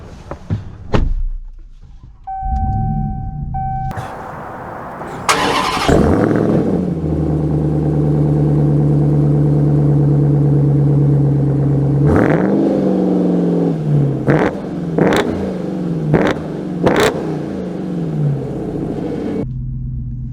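A 2023 Ram TRX pickup starts up after a door thunk, its engine catching into a loud, steady idle rumble near the listener, then revving in several sharp bursts before settling back.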